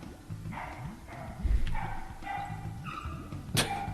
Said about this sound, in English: My neighbor's dog is, he's a talker.